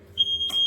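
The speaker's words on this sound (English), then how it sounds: "That's the smoke alarm going off." A household smoke alarm going off indoors, a single sharp, piercing high-pitched beep sustained steadily, loud and close, with a brief clatter partway through.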